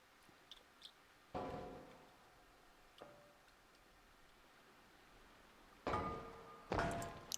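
In the Scrap Mechanic video game, a battlebot's spinning weapon lands several hard, sudden thuds and knocks against a faint background, with two strong impacts close together near the end.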